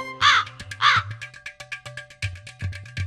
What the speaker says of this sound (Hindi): आवाज लगा रहा हूँ अम्मा और शारदा को और जवाब कौवा दे रहा है